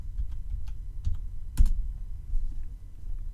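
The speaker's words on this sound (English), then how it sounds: "So if I go here and I type in guitar," Keys tapped on a computer keyboard while entering a search term, scattered light clicks with one sharper cluster midway, close and fairly faint over a low steady background hum.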